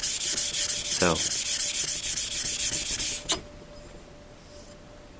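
An old paring knife is ground on a sharpener, a steady pulsing abrasive rasp with one sharp scrape near the middle, then it stops abruptly, leaving faint background hum and a single short spoken word.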